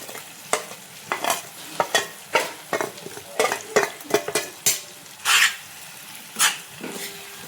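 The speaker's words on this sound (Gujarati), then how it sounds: "હવે નાખી દઈએ વધેલો મસાલો" Leftover spice mix goes into a pan and is stirred, giving repeated scraping and clinking strokes of a spoon against metal at an uneven rhythm, close by, with a faint sizzle underneath.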